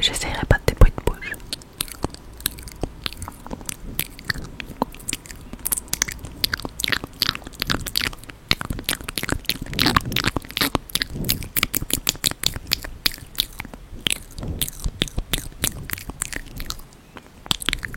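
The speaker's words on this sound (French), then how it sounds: "Est-ce que j'essayerai pas des bruits de bouche?" Rapid wet mouth clicks, pops and smacking sounds recorded close on a Fifine K678 microphone, crisp, in dense irregular bursts with brief pauses and no speech.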